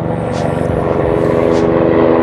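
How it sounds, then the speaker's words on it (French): A loud, close aircraft engine drone with a rhythmic rotor-like throb, steady throughout the short stretch. "Oh, il y a un putain d'hélicoptère."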